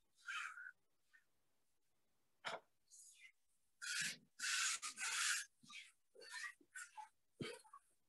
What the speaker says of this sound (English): So I'm just smoothing it, going up and down, left and right, making sure that I cover all areas of the block